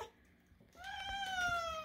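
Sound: cat meowing

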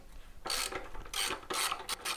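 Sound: 13mm socket ratchet loosening nut on BMW R1250GS exhaust

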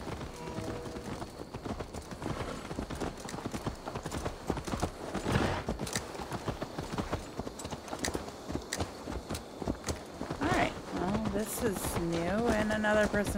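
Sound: horse hooves clip-clopping in the video game Assassin's Creed Valhalla

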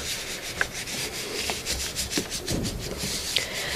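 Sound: hand rubbing paper over an inked collagraph plate

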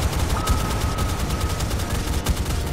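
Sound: anti-aircraft guns firing in a naval video game

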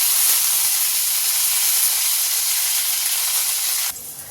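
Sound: green chillies and curry leaves sizzling in oil

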